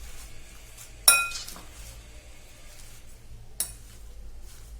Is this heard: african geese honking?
no